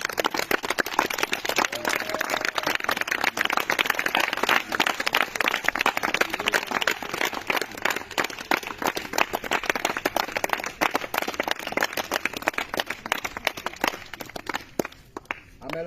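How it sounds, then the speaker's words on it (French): A church congregation at a French-language worship service claps steadily and loudly in praise of Jesus, many hands blending into a dense, sustained applause that thins slightly toward the end. "on acclame le Seigneur Jésus."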